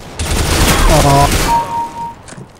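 Rapid bursts of gunfire from Counter-Strike: Global Offensive, a loud fusillade of shots with a brief electronic tone, mixed with a player's voice talking in the first half.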